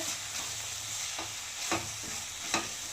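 Kashmiri chilli, chaat masala and tomato paste are stirred in a pan, a soft continuous sizzle with three brief scraping strokes of the spoon, close and quiet.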